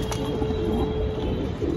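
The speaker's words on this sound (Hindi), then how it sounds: "ये बहुत प्यारा कबूतर है जी।" Patiala fancy pigeons kept by a Haryana fancier coo softly nearby in a low, continuous murmur over a steady background hum, with no talking.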